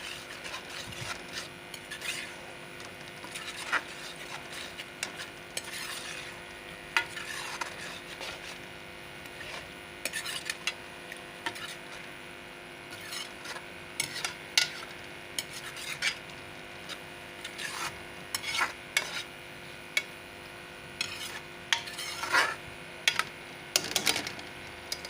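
Okra and minced meat (bhindi keema) being stirred in a pan after spices go in, with a steady scraping, rubbing rasp of a utensil against the pan and scattered sharp clinks of metal, close and continuous without speech.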